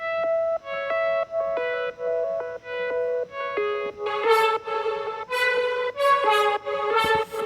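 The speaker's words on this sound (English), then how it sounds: "I wanted reverb on one and delay on another, and as you can hear, the delay in the background" A bright synthesizer melody plays steady repeated notes, each trailed by echoing delay repeats; the sound grows louder, denser and more distorted halfway through.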